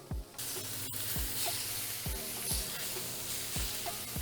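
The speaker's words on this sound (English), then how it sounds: "some chopped up onions, so we can fry up our onions" Chopped onions fry in olive oil on a flat-top griddle, a steady broadband sizzle running throughout with regular low thumps of a spatula tapping the surface every second or so.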